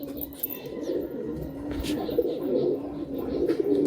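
Two matching male pigeons coo nearby, a continuous low, throbbing murmur with small rises and no pauses.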